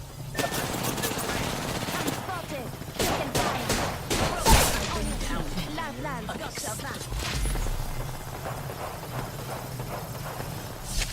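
Enemy gunfire in the battle royale shooter Apex Legends: bursts of rapid shots and loud close cracks, one especially sharp blast midway, over dense game noise.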